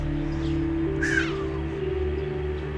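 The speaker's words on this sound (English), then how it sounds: "There go the birds." A single harsh caw rings out once over a steady low hum, with faint, distant bird calls scattered through the background.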